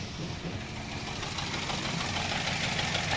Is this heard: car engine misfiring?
yes